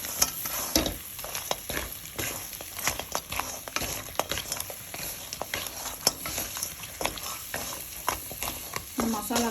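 Crab pieces coated in masala are sautéed in a wide kadai. Busy, irregular clanks and scrapes of stirring run over a steady sizzle, with a faint voice in places.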